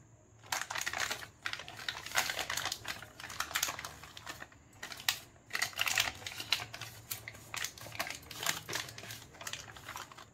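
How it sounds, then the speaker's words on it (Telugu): Quick bursts of crisp crinkling and rustling as aluminium foil is wrapped over a mold, close and fairly quiet, coming in irregular clusters with short pauses between them. "ఒక సిల్వర్ ఫాయిల్ పేపర్ తీసుకొని దాని మీద కవర్ చేసుకోవాలి."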